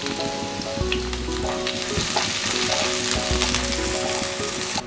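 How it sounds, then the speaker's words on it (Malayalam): Chopped onion frying in hot sunflower oil, a dense, continuous sizzle with crackles and a few scraping stirs, close and loud without any talk. "ഇനി അതിലേക്ക് നമുക്ക് ഒരു മീഡിയം സൈസിലുള്ള സവാള ചെറുതാക്കി ചോപ്പ് ചെയ്ത് ചേർത്ത് കൊടുക്കാം"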